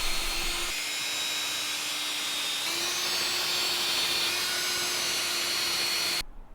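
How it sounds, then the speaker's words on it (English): A power drill whines steadily at close range for about six seconds, drilling pilot holes in wood, its pitch rising slightly partway through, then stops abruptly. "we'll drill some pilot holes so that we don't split the wood when we screw it in"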